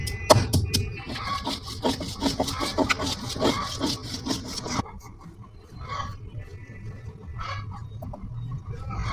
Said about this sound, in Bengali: এখন আদাটা বাটছি রান্না করব তরকারির জন্য